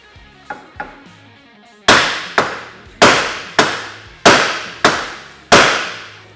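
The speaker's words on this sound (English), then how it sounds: "Then we're gonna hit the knuckle right here." Metal hammer strikes on the steering knuckle of a Honda Talon 1000R during an A-arm install, two light taps followed by seven loud, ringing blows at a steady rhythm, close up with no talk.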